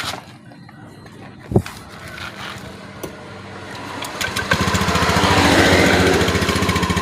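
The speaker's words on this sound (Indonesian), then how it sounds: "Kita coba untuk menghidupkan dulu motornya teman-teman ya. Sebentar ya, saya coba starter dulu." A Honda Beat motorcycle engine cranks on its starter with a few clicks and catches. It rises into a loud, close, steady running rumble over the last few seconds.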